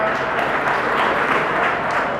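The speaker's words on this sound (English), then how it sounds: "Can you give them a loud clap?" An audience at a Mumsa High School, Mityana, MDD 2025 school event gives loud, sustained applause, a dense, steady wash of many hands clapping at once that continues without a break.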